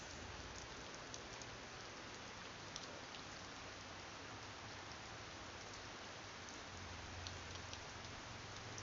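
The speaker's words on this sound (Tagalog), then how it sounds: "Ulan, lakas." Steady, dense heavy rain pouring down continuously, a constant hiss with faint patters of drops, no voices.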